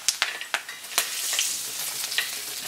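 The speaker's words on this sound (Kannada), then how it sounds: "ಕರಿಬೇವು ಹಾಕಿದಾಗ ಎಣ್ಣೆ ಹಾರುತ್ತೆ" Curry leaves hit hot oil for a tempering, sending out several sharp spluttering pops over a steady sizzle that swells midway, close but fairly quiet, with no voices.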